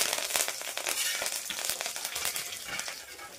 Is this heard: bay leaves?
yes